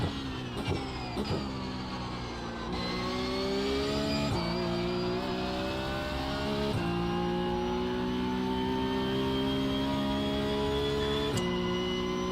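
A Porsche Cup race car engine at Bathurst in the iRacing sim, revving hard through repeated upshifts with each gear climbing in pitch then dropping at the shift, steady and loud with no voices.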